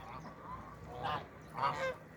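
Flock of geese on the Yeşilırmak river honking outdoors, a couple of distinct loud honking bursts rising over a steady background murmur, fairly near.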